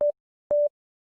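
Synthesizer playing FM sine-wave tones with maximum detune, two short beeping pulses about half a second apart, clean and alone against silence.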